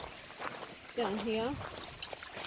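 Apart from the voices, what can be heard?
water running down a small channel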